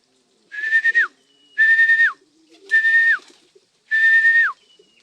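Four drawn-out whistled calls with a falling tail, evenly spaced and fairly close, with quiet gaps between them, as racing pigeons arrive home.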